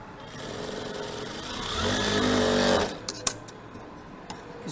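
A sewing machine stitches a V-shaped waistcoat, running steadily for about three seconds before stopping, followed by a few faint clicks and handling sounds.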